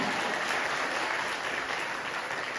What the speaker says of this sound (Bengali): জোরসে জোরসে হাততালি